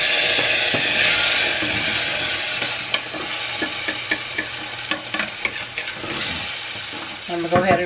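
Rice fries with a constant hissing sizzle as tomato sauce is stirred in, with a spoon scraping and tapping the pan at irregular intervals, close and fairly loud.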